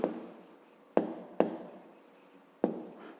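A pen writing out a fifth-grade math solution on paper, a few short scratchy strokes that start sharply and fade, heard close with brief pauses between them.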